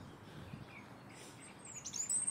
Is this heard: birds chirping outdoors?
yes